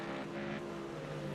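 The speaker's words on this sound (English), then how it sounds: "Jaden's car is scraping the ground." Race car in a racing game at Spa, its engine droning steadily with a harsh scraping rasp layered over it as the underside grinds the ground, loud and continuous for a brief moment.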